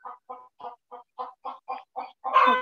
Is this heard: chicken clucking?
yes